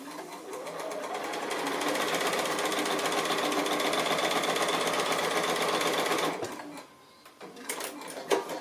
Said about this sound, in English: So just regular stitching right on that line.